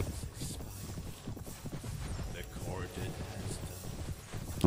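Horse hooves in the medieval battle game Mount and Blade Warband, a rapid clip-clop gallop rhythm under battle noise, with a brief whinny and someone talking over it.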